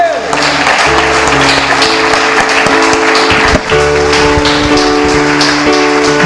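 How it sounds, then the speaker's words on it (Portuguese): A church congregation in São Gonçalo claps in praise during a sermon, a continuous bright patter of many hands mixed with sustained music and voices, ending with a brief dip before the clapping resumes. "Isso é motivo de glorificarmos com palmas ao Senhor."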